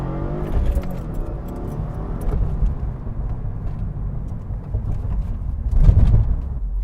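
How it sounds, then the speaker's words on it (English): A decat car accelerating hard with a quick gear shift, the engine note rising in a smooth pull from inside the cabin, dipping briefly at the shift and then building again with a louder surge near the end. "that felt like a really smooth pull to me. No gears grinding, the shift felt kind of quick."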